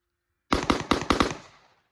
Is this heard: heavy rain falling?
no